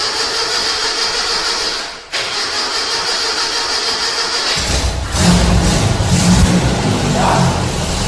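A car engine idles steadily, dips briefly around two seconds, then surges into a louder, fuller running rumble that holds to the end, with no talking.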